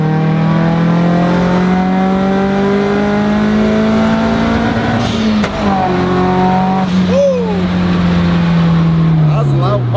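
A car engine revs hard and continuously at close range from inside a cabin with no sound deadening, with a couple of sharp exhaust pops and bangs breaking through the loud drone.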